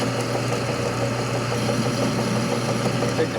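A lathe cuts the thread off a motorcycle step stud, producing a steady, dense mechanical drone with a constant hum and a rough, uneven cutting texture throughout.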